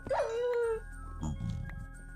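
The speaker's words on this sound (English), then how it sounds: "Where's that growling coming from?" A hellhound mob in the Minecraft GTNH modpack gives a drawn-out, whining growl followed by a few lower, rougher snarls, close and fairly loud with no talking.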